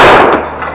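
A single loud gunshot at an outdoor shooting range, a sharp close crack with a short decaying tail and no voices.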